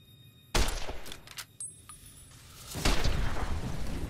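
Gunfire crackles in Fallout: New Vegas from a weapon in poor condition: a sharp shot, a few lighter clicks and pops, then a longer noisy burst of shooting and impact sound, with no voices.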